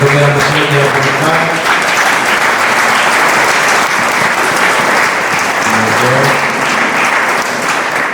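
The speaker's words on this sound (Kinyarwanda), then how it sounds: "dushimire Imana, tuyikomere amashyi y'iraguruka" A church congregation applauds loudly and steadily throughout, a dense, sustained wash of clapping with voices and brief sung tones rising above it near the start and again later.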